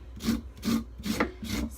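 Repeated scraping of spines off a cactus pad being prepared for cooking, four rhythmic rasping strokes in under two seconds, close and fairly loud with no voices.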